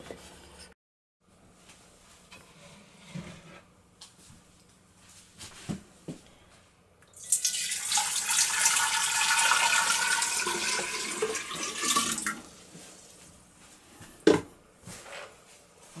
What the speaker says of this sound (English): And then we're gonna water test it.